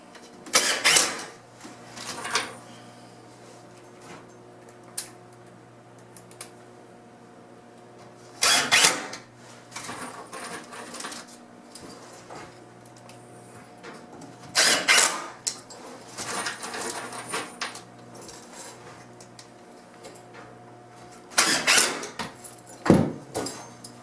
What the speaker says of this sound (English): And we put the last 4 screws in here.